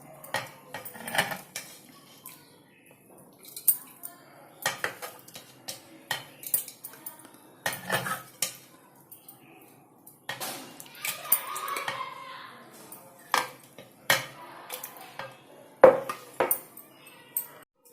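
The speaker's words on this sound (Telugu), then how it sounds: "ఇప్పుడు మనం ఈ బాటిల్లో వేసుకుందామండి." Tamarind pulihora paste being spooned into a storage bottle, with repeated close clinks and scrapes of a metal spoon against the container in uneven bursts, and faint voices in the background.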